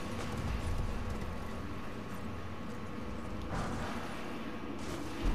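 A horse's hooves clop steadily as it is ridden in Elden Ring, a continuous dense rhythmic patter under a loud wind-like wash.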